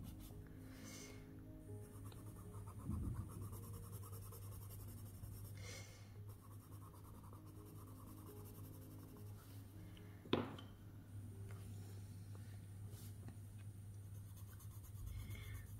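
Colored pencil strokes scratch quietly across paper in short, irregular bursts of rubbing and shading, very faint and close, with a small tap partway through and no speech.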